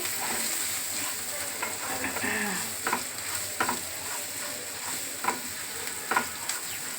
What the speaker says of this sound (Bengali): এইটা দিলাম এটাকে নাড়বো